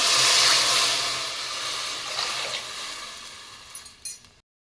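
Water poured into a cooking pot of fenugreek rice, a steady rushing splash that runs for about four seconds, tapers with a few clinks, then cuts off.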